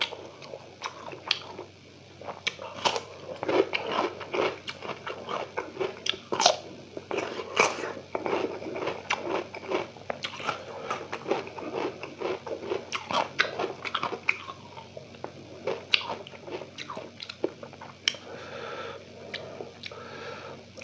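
Spicy beef skin (kikil) with rice and vermicelli is chewed close to the mic during a mukbang, giving a continuous run of soft, wet squishing bites and occasional crunches that carry on steadily with no talking.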